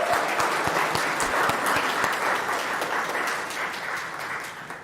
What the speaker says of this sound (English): we might like to applaud the choir maybe one more time